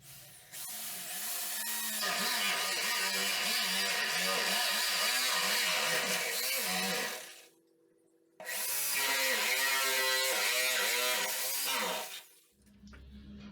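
Power drill boring holes in a hinged door for the lock and handle, two long loud bursts of whining, grinding drilling separated by a short pause, with a brief final spin at the end.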